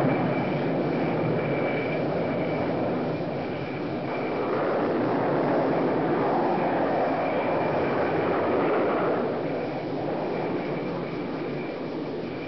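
Three F-4J jets and an A-4 launch almost simultaneously from an aircraft carrier deck, producing a continuous, loud jet-engine roar that swells and fades slightly across the clip.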